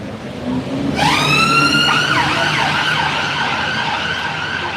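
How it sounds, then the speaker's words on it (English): An ambulance siren in Soho, London starts suddenly and wails loudly with rising and falling tones, passing close by over traffic noise. "Ambulance."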